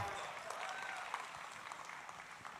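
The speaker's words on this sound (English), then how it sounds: "A big, big round of applause for Dr. Dubet, Order of Canada." A crowd applauds at the inauguration ceremony of a 54-foot Shiva statue, a faint, distant wash of clapping holding steady throughout.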